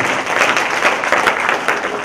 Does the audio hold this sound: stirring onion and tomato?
no